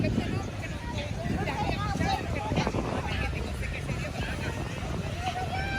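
Strong wind at a beach roars and buffets the microphone, loud and steady throughout, with people talking over it.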